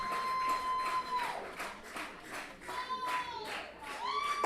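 Fans at a Guelph Royals baseball playoff game keep up a rhythmic, steady clap, heard at a distance with crowd noise and a loud voice over it, plus whistles or noisemakers.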